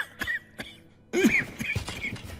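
A couple of short coughs, then a harsher louder cough with a rough throaty edge, close and clear.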